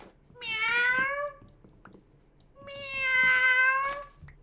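A voice imitates a cat meowing, two long drawn-out meows with a pause between them, close and loud, with no other sounds.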